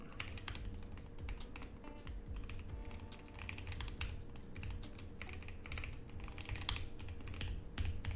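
Computer keyboard typing: a steady stream of fast, close keystrokes with uneven rhythm and occasional brief pauses, continuing alone without speech.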